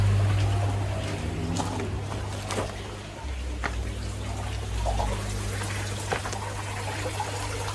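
Water runs steadily through new ceramic media in a Bakki shower filter, a continuous splashing trickle split between the blade outlet and the inlet, heard up close with a constant low hum underneath and no voices.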